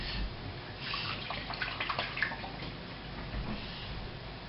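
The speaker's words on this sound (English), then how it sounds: "I'm just going to wash my hands first because I can't grip anything" Hands being washed under a running kitchen tap, a steady close rush of water with light splashing and a few drips, moderately loud and unbroken, without speech.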